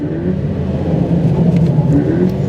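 A Subaru BRZ engine drones loud and steady from inside the car as it accelerates hard on a race track, a deep continuous rumble with a rising pitch.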